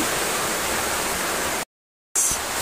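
Floodwater rushing outside a house during a typhoon, a steady loud broadband roar that cuts out briefly to silence and then returns.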